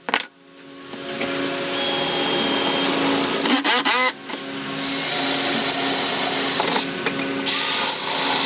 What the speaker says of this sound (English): and I just drill my holes.